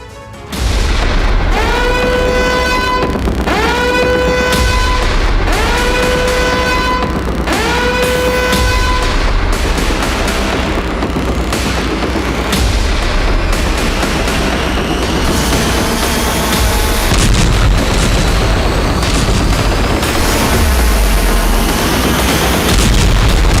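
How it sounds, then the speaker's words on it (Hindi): Loud booming blasts from Zircon and Iskander missile strikes in Ukraine, with repeated rising harmonic whines in the first seconds over a continuous heavy rumble that persists throughout. "यूक्रेन में ज़िरकॉन और इस्कंदर जैसी मिसाइलों के धमाके हुए।"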